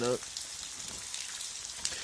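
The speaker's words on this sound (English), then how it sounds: "this rain is really bad." Heavy rain pours steadily onto surfaces outdoors, a dense, even hiss of falling drops with a brief voice at the very start.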